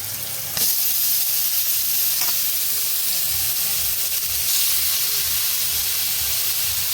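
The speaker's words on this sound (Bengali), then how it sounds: "এরকম চিপে মূলোটা এর মধ্যে কড়ার মধ্যে এবারে দিয়ে দেবো" A burst of loud hissing sizzle as squeezed grated radish drops into a hot kadai for mooli paratha filling, settling into a steady, dense steamy fry heard close with no voices.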